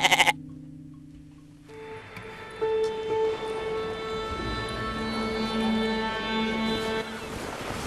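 A goat bleats in a long, wavering tone over a low rumble after a brief opening sound, near and fairly loud, with no speech.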